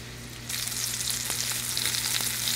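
Lamb slider patties hit a hot pan and sizzle steadily, a close, bright hiss that jumps up half a second in and holds with faint crackles.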